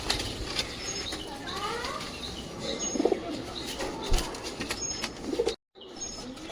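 Domestic pigeons at a home loft, one with a cold in its eye, give soft low cooing and a few chirps amid steady background noise, with a brief dropout near the end.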